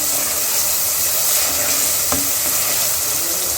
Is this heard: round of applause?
no